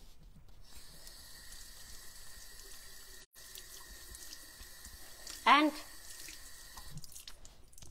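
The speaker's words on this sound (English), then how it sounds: "I'm going to wet it with water here behind me." Tap water runs behind the speaker onto a mutton cloth, a faint, steady trickle with a brief louder splash midway. A voice speaks a single word.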